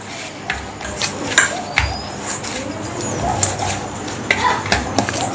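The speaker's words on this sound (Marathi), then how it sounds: "आता याला थोडंसं तेल लावून घेऊया आणि व्यवस्थित परत एकदा चुरून घेऊयात" Wheat dough is kneaded with a little oil in a bowl, giving soft irregular squelches and light knocks against the vessel, close by, with a pigeon cooing faintly in the background.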